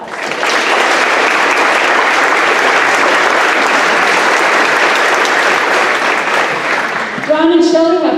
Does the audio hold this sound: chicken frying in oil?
no